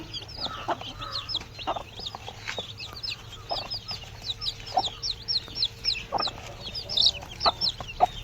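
A flock of native black-and-white chickens and chicks clucks continuously nearby, with many high, chirping peeps overlapping and a faint hum beneath.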